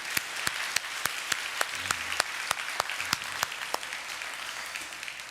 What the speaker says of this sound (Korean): 우리 박수로 한번 축복해 주시면 좋겠습니다.